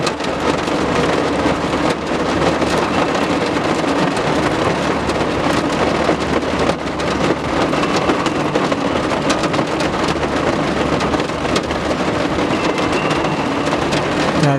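Heavy rain hisses steadily through a thunderstorm while low thunder rumbles underneath, a dense, continuous wash of sound lasting about fifteen seconds.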